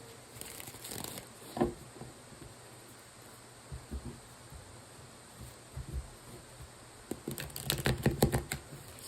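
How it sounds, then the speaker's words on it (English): Tarot cards being shuffled loudly, giving crisp riffling and flicking bursts at the start and in a dense run near the end, with softer scattered taps and rustles in between. "Sorry about the loud cards, y'all."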